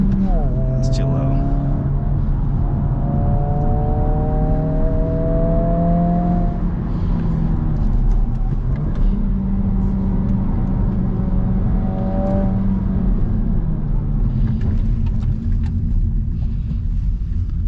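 A 2022 Honda Civic Si climbs a winding canyon road, its engine droning loud and steady from inside the cabin, rising in pitch through the gears and dropping at each shift, with a voice talking over it.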